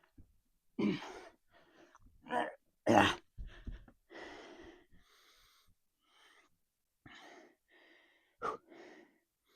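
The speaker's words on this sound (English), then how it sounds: "Sorry if you hear me breathing, but I can't help it." Heavy, ragged breathing from a man resting between sets of a high-volume push-up and pull-up routine: loud gasping inhales and wheezing exhales, close to the mic, with quiet pauses between breaths.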